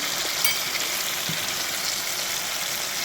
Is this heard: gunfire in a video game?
no